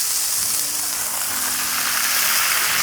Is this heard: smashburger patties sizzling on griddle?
yes